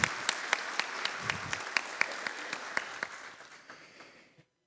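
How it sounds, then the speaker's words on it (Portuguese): Applause at a formal legislative ceremony honoring an honorary citizen, a modest crowd clapping in a loose rhythm of distinct sharp claps that thins and fades out after about four seconds, fairly close and unaccompanied by speech. "Uma salva de palmas."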